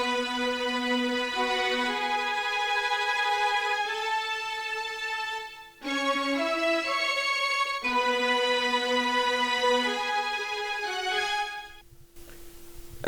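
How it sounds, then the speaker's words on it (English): Two layered violin samples, one from Sinful Orchestra and one from Xenology, play a sustained soul-style string melody in long bowed phrases with brief breaks between them, loud and upfront with no talking. "together these 2 violins sound like this"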